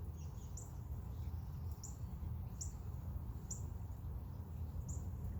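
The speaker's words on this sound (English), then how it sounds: "relax and listen to the rain and the birds" Faint, high bird chirps repeat at a slow, steady pace over a constant low rushing background that sounds like rain.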